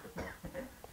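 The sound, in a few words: cough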